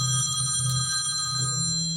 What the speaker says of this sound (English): she's calling the wrong phone.